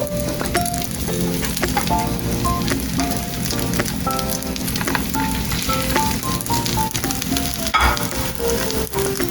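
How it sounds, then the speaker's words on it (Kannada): Burger patties shallow-frying in about two teaspoons of oil, a steady close sizzle and crackle with occasional stirring scrapes, no talking. "ಅದರಲ್ಲಿ ಇವಾಗ ಇದನ್ನು ಶಾಲೋ ಫ್ರೈ ಮಾಡೋದು ಪ್ಯಾಟೀಸನ್ನು"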